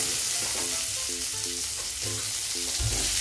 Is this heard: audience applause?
no